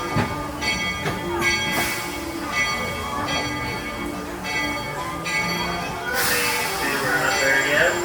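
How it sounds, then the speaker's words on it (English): A theme park train at Magic Kingdom, Walt Disney World, backs slowly into the station with rumbling, rhythmic clacks and a ringing bell, while a voice speaks over it; a brief hiss of air near the end. "please remain seated until the train comes to a full and complete stop"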